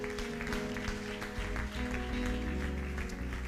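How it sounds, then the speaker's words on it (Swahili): A church congregation at a Sunday service in Kitengela claps together, dense continuous applause filling the room with steady rhythmic hand claps and a busy hum of voices and music beneath. "Situpigia Yesu makofi mazuri"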